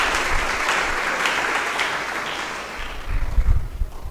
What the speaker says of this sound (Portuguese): Uma salva de palmas para a obra de Jesus Cristo.